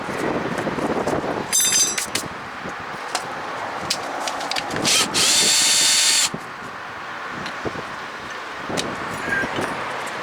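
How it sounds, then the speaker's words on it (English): A worn abrasive wheel on a power tool polishing the caliper bracket grooves of a 2015 Mazda3 rear brake, with short high whining bursts and grinding contact amid workshop background noise, close by. "I have a little wheel here that's extremely beat up that I use for polishing out the caliper bracket grooves."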